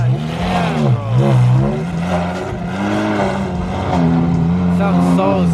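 A loud Nissan GT-R engine revs and accelerates, its deep rising and falling drone running continuously and close by throughout.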